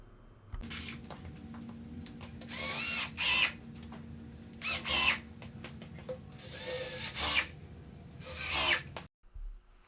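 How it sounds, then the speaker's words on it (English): A power drill pre-drills holes in wood for mounting locking casters, revving up in several short loud bursts with quieter pauses between, close by. "I pre-drilled all the holes and then mounted one in each corner"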